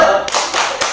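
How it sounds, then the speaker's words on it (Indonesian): A group in an Indonesian community family-finance session claps a rhythmic salute, a few sharp clustered claps heard close and loud. "Tepuk salut buat Ibu Sela."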